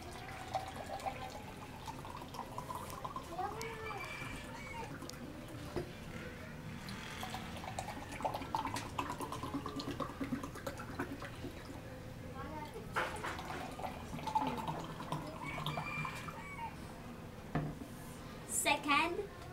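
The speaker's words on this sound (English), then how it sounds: "First is we put some water in each glass." Water poured into drinking glasses for a physics experiment with eggs and salt: faint trickling and glassy clinks come in short bursts under a voice talking throughout.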